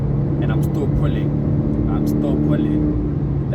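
A Kia Rio 1.4 accelerates through the gears, its engine droning steadily from inside the cabin with rising pitch sweeps at each shift, while someone talks over it.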